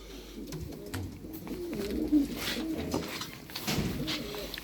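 Pigeons in a pigeon shop coo in soft, repeated low calls against a busy indoor background, several rolling coos close by, with no talk.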